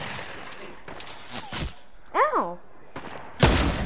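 Gunfire in the video game Fortnite: several sharp, separate shots and thuds spaced irregularly, ending in a loud close blast, with a brief vocal yelp in the middle.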